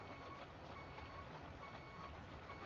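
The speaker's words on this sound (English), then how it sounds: "Let's spin around so we're not hearing beeping the entire backing up." Reversing beeps from a heavy road-building vehicle, such as a roller, in the RoadCraft video game during a road washout repair. The beeps are faint and repeating, buried in a steady broad rumble of engine and ambient game noise.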